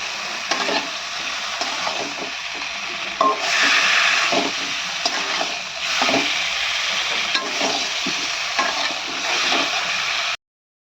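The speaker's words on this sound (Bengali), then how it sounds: "এই যে আলু আর ডাঁটাটা সিদ্ধ করাটা দিয়ে দিলাম। একটু এটাকে ভেজে নেবো ভালো করে।" Boiled potatoes and drumstick stems frying in cooked spice paste, a continuous close sizzle broken by repeated rhythmic spatula scrapes and stirs, fairly loud, ending abruptly, with no talking.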